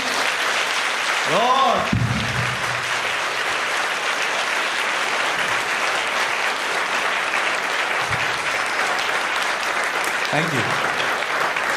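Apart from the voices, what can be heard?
congregation applause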